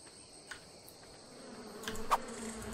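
Bees buzzing in the video game Ark Survival Evolved, a faint insect drone with small fluttering swells and a few soft clicks, quiet and steady over a low background.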